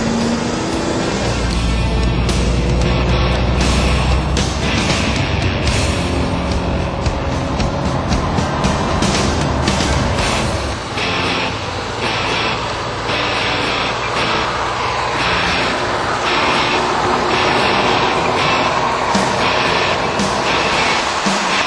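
A Lamborghini engine driven hard at full throttle, a loud continuous roar rising and holding with broadband rumble, close and dominant throughout with no talking.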